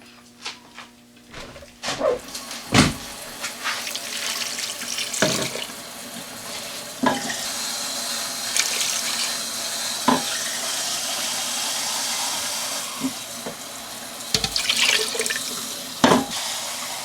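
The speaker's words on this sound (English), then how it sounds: "Now I'm going to add a little bit of water." Water poured from a tap into a Magic Mill pressure cooker holding a seasoned sauce, a steady splashing pour with a few sharp clunks of the pot and utensils, close by and without talk.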